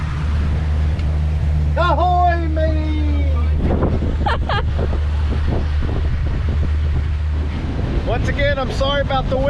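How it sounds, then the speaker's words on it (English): Loud, constant wind buffets the microphone aboard a rented pontoon boat near Crab Island in Destin, with a steady low engine drone and voices talking and calling out over it. "Sorry about the wind."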